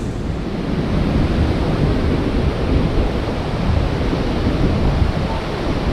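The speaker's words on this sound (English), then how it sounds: "now we are here in Mayaro" Ocean waves wash onto the beach at Mayaro in a continuous, steady roar of surf mixed with wind rumble on the microphone.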